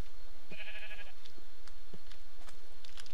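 Sheep bleating in the Minecraft Pixelmon video game, a few short, moderately clear bleats spread over a quiet ambient game backdrop with light clicking sounds.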